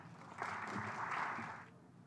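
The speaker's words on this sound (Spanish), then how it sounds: "pedimos pues un fuerte aplauso para él" A seminar audience applauds a speaker in a brief, fairly quiet burst of clapping that swells and fades within about two seconds, heard from a distance with no talk over it.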